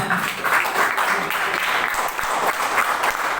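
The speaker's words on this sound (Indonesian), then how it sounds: "beri tepuk tangan buat Tuhan" Congregation applause at a Christian training session, a sustained, fairly loud wash of clapping from a crowd, with a few sharper claps standing out.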